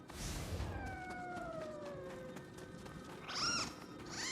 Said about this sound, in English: that would be a scampus. A cat-like yokai just like myself.